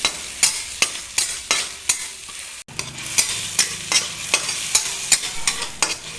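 Chopped onion and tomato fry in a pan, a sizzling bed broken by regular sharp spatula strikes against the metal, with a short gap in the middle.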